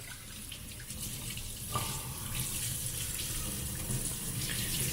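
Water running and splashing in a kitchen sink as a raw chicken is rinsed and rubbed by hand, a steady close stream with small irregular splashes throughout, with no talking.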